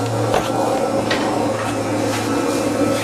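A workshop dust collector runs with a steady, loud mechanical hum and broadband whoosh, continuous for the whole stretch, with a few faint knocks on top and no talking.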